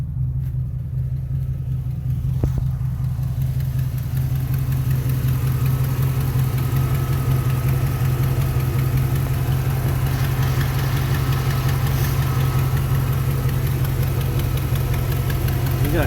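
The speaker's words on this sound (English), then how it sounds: "Now it's idling on its own." A 1991 Chevy Silverado pickup engine idling on its own, a loud steady low rumble with a faint ticking running unbroken throughout.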